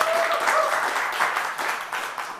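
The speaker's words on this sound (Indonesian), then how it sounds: "kalau saya kasih tepuk tangan dulu" Steady applause fills a television talk show studio for a few seconds, a dense and continuous patter of many hands clapping at once.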